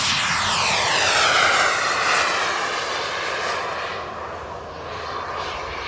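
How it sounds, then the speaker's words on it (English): An exposed RC model jet turbine at the Saratoga Springs RC park in Utah spools up for takeoff, a loud, close, steady roar with a rising whine that holds strong, then eases slightly toward the end; no talking. "gets ready to power up and take off with that jet"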